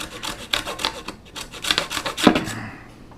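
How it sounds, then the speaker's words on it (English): Cheese rubbed by hand across a grater, a series of rhythmic rasping scrapes, close and fairly loud, each stroke a short gritty burst with brief pauses between. "watch me do more fucking cheese grating"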